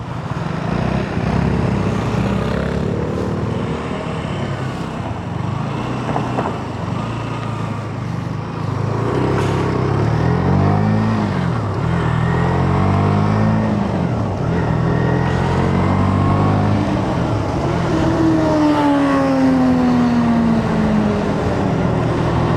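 A motorbike rides along a road at night in Korea, its engine a steady close drone that rises and falls in pitch as it speeds up and slows, with wind noise and no talking.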